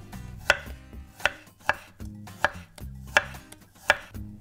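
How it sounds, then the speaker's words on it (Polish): Knife thinly slicing whole peeled garlic cloves on a cutting board, six or seven sharp, evenly spaced taps close up with quiet gaps between them. "Czosnek obieramy, zachowując go właśnie w całości i cienko kroimy."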